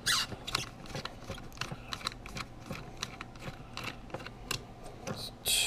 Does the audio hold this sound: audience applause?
no